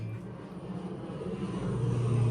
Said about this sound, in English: aeroplane going over.